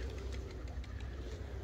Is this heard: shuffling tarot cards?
no